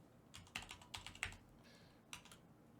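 Faint typing on a computer keyboard, a few irregular clusters of quiet keystrokes with short pauses between them.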